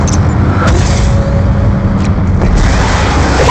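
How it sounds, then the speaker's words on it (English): A Hellstorm missile strike in a hardcore first-person shooter gives a loud, sustained low rumble broken by a few dull booming impacts, with no voices on top. "Hellstorm missile inbound."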